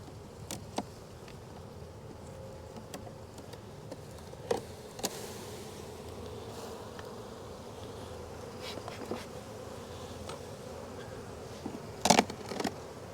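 Honey bees buzz in a steady, soft drone from an open backyard hive, with a few sharper close passes and light clicks over the hum.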